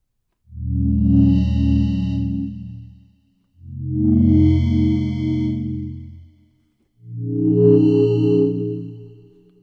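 Three sustained FM synth chords from a Serum 2 preset, each swelling for about two and a half seconds with short gaps between, giving a bright, glassy, shimmering tone over a full low end.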